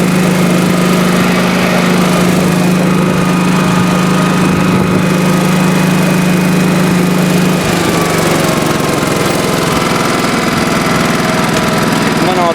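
A 1986 Honda HT3810 lawn tractor engine runs at full throttle while driving in fourth gear, a loud, steady, close drone with a strong low hum that shifts pitch slightly partway through.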